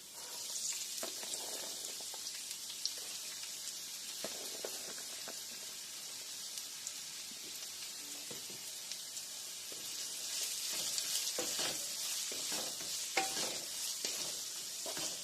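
Chopped shallots and brown and red onions sizzle steadily in a pan for a chicken curry, a soft continuous frying hiss with occasional stirring scrapes and small pops, fairly quiet with no talking.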